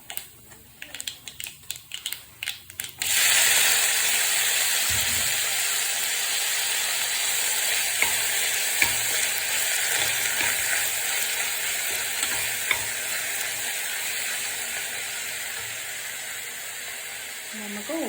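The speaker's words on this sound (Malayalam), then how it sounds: "ഇനി നമുക്ക് വാഴത്തട ഇട്ട് കൊടുക്കാം." Chopped banana stem tipped into a hot pan with urad dal, setting off a loud, steady sizzle after a few clattering stirs, with occasional scrapes of a spoon continuing over the frying.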